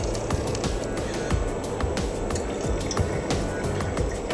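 Water gurgles and trickles steadily through the cooling hose of a water cooler for an argon TIG welding torch, a close, continuous bubbling flow with small drips and splashes.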